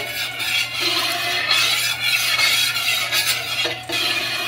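Whole cinnamon, cardamom and bay leaf stirred in hot oil in a home kitchen, giving a steady scraping, sizzling rustle with light utensil clinks that stays close and even throughout.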